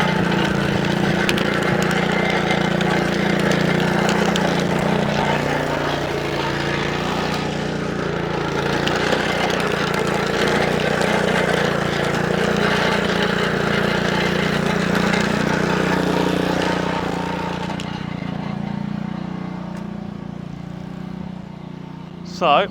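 A Lawnflight 553 HRS Pro ride-on mower engine runs at a steady warm-up idle with a slight rattle, close and continuous, easing down near the end, with some talk over it.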